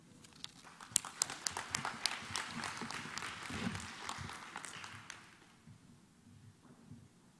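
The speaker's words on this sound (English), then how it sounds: "We congratulate and applaud the candidates who are being conferred" Audience applauding graduation candidates at a 2021 university commencement ceremony, a dense crowd of clapping with some sharper individual claps, holding steady for about five seconds before fading away.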